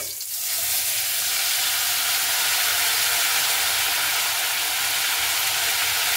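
Prepared masala paste hits hot oil while cooking potol chingri, a pointed gourd and prawn curry, bursting into a loud, steady sizzle and hiss that carries on without pause.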